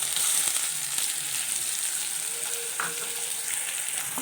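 Sliced onions and mustard seeds fry in hot oil in a pan, giving a continuous bright sizzle with faint crackles and a light stir, close and steady with no voices.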